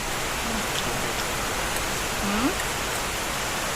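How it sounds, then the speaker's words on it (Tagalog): Heavy rain pours steadily outside a house as an even, dense roar throughout, with faint household sounds beneath. "ang lakas ng ulan. Lakas ng ulan sa labas."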